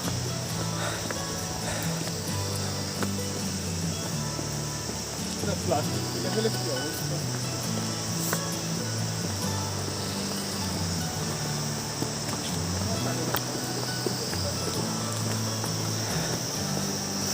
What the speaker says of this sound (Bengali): ঝিঁঝি পোকার ডাক শুনুন শোনা যাচ্ছে ঝিঁঝি পোকার আওয়াজ